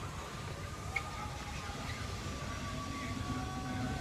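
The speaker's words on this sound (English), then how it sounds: "There's the train going by." A low, continuous rumble of a train rolling past at some distance near an amusement park, steady and moderately faint, with faint background sounds.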